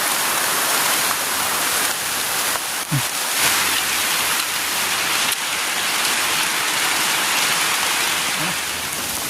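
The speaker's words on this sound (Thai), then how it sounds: "ฝนตกแล้วทุกคนเลย" Heavy rain pours down in a steady, dense roar that stays loud and unbroken throughout, with no voices over it.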